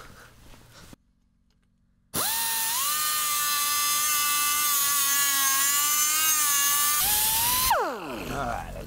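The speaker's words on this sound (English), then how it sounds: "Finish on these on the belt sander." A belt sander whines steadily as parts are finished against the moving belt, a sustained high motor tone that starts abruptly after a brief pause and winds down at the end, close and loud.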